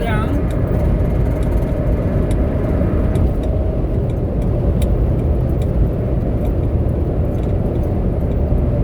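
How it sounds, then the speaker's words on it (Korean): Dump trucks and other construction vehicles pass on a road near a construction site, heard from inside a moving car as a loud, steady engine and road rumble that continues throughout, with a person talking over it. "덤프트럭이 많이 지나가고 있네요."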